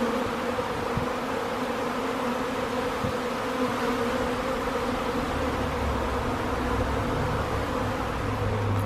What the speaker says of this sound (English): There's just so many bees out here